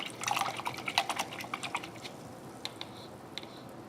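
A paintbrush swished and rinsed in a water jar gives a quick flurry of close, soft splashes and clinks that thin out into a few scattered drips and taps.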